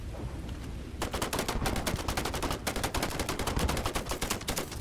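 Rapid automatic gunfire hammers at a monster in Starfield, a dense, steady burst of sharp shots running for several seconds after a brief quieter lead-in, loud and close.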